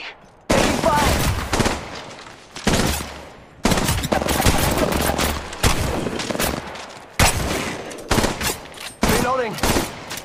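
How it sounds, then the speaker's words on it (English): Rapid automatic gunfire bursts from the Apex Legends Mobile battle royale game on Android, loud and repeated in several volleys with short gaps, a voice calling out over some of the shots. "Shots fired at me."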